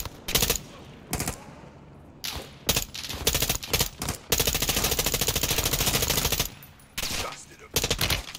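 Bursts of automatic gunfire in the video game Call of Duty Modern Warfare II, loud and close, with short volleys separated by brief gaps and one longer sustained stream in the middle.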